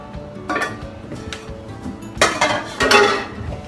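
Dirty dishes and cutlery clatter as they are loaded into a dishwasher in a home kitchen after mixing a buttermilk chocolate cake batter, with two loud bursts of clinking plates and utensils amid softer scattered knocks.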